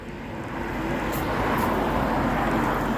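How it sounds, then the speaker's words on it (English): Steady traffic noise from cars passing on a nearby road, a broad continuous roar that swells after the first half second and holds loud and even, with no talking. "I don't know why so much cars all out of a sudden come this way."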